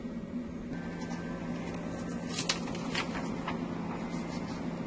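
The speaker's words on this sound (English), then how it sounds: "I hear the printer kick into life." An inkjet-style home printer wakes up and begins printing a job sent wirelessly from an iPad. It gives a steady mechanical hum with brief clicks and whirring bursts partway through, close by, with no talking.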